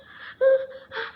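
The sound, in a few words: voice imitating a frightened rabbit panting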